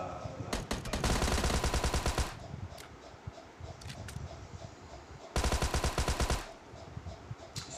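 Automatic weapon fire in the battle-royale game PUBG comes in two long, loud bursts of rapid shots, with scattered single cracks and distant pops in the quieter gap between them.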